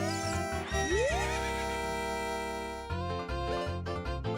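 A horse in The Legend of Zelda: Ocarina of Time gives a loud, rising whinny over steady game music, followed by a rhythmic run of hoof clip-clops.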